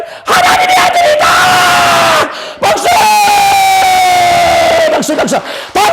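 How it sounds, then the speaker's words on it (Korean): A church congregation at a Korean sermon erupts in loud applause, cheers and shouts, in two bursts separated by a brief pause, rowdy and close. "박수"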